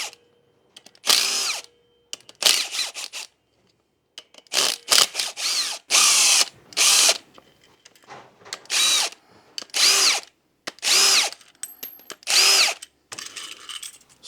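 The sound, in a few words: power tool removing clutch springs, Yamaha Warrior 350 ATV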